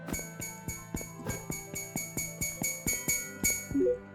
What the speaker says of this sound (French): C'est un bruit de panneau, ça.